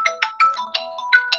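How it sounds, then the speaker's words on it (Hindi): A phone ringtone for an incoming call plays alone during a lecture, a repeating electronic melody of short bright bursts at a steady, fairly loud level. "एक्सक्यूज मी जरा मैडम का फोन आ रहा है"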